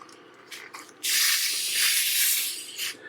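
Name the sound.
pouring fizzy lemonade into scone mix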